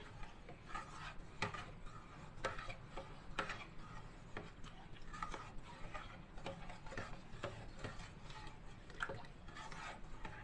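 Maja blanca mixture of cornstarch and evaporated milk is stirred steadily in a pot, making a faint, continuous rubbing and scraping with light rhythmic ticks of the spoon against the pot, close by and without voices.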